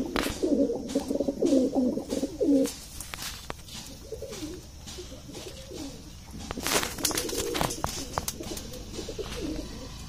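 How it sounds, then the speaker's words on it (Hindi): Repeated low coos of a grey pigeon, close by, with a few sharp clicks and rustles; some faint talk briefly in the background. "सलेटी कबूतर।"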